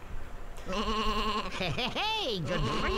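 Sheep bleating in the Sheep, Dog 'n' Wolf video game, several wavering bleats in a row, loud and close, with game sounds underneath.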